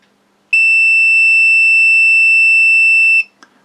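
A multimeter in continuity mode gives a steady, loud high-pitched tone for about three seconds while probing a flight control board between one pin and ground, then stops, followed by a faint click.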